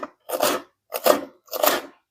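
Scissors snip through a noodle packet in three separate crisp cuts, close and distinct, with short pauses between each stroke and no talking.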